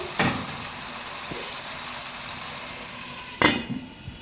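Masala for arvi and baingan sabzi being stirred and fried in a pot over a low flame, with a low, steady sizzle broken by two sharp scrapes of a spoon against the pan near the start and end.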